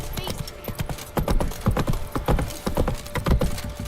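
Horse galloping in The Witcher 3, a rapid, loud clip-clop of hooves in an uneven running rhythm, close by, with no talk over it.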